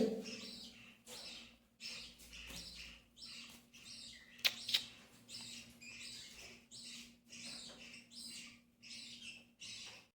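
Several small caged birds of the same colour and quality twitter in quick, bright chirping bursts close by, with a couple of sharper clicks midway and a low steady hum beneath.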